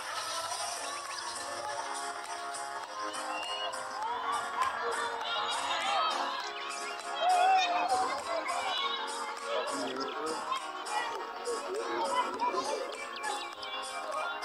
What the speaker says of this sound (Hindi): यहाँ पर काफी बड़ा मेला लगता है, देख सकते हैं काफी ज्यादा भीड़ है यहाँ पर